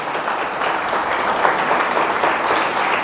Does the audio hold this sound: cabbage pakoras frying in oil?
no